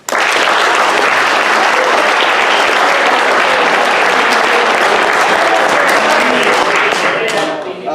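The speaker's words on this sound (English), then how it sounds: "So just a quick round of applause for the team." Loud, sustained applause fills the room at a boys varsity soccer team dinner, starting abruptly at full strength and holding steady before tapering slightly at the end, with some voices mixed in.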